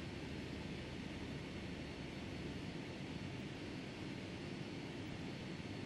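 Boeing 757 jet engines idling in Microsoft Flight Simulator X, a faint, steady broadband hum and whine with no talk.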